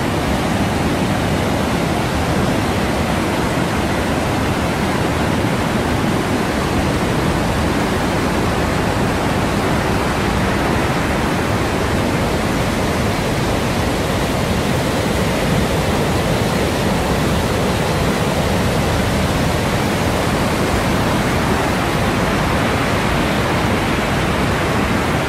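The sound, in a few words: waterfalls of Baume-les-Messieurs, Jura, France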